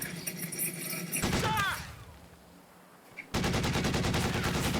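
Bursts of machine gun fire from an MG nest in the Company of Heroes 2 war game, loud rapid rattling that stops, leaves a quiet lull, then resumes as dense sustained fire.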